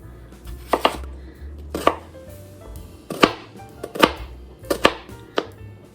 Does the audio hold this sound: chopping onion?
yes